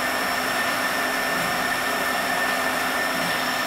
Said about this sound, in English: Runs true, has a bushing in the bottom, stabilizing the counter-rotating agitator with the scraper agitator.